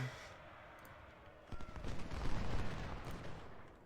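Musket volley fire in the Civil War strategy game Ultimate General: Civil War, a dense rolling crackle of many shots that swells after a quiet start and stays steady at moderate loudness.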